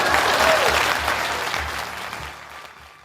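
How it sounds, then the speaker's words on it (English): Audience applause at a Republican primary debate, a dense burst of many hands clapping that starts loud and gradually fades toward the end. "Please clap."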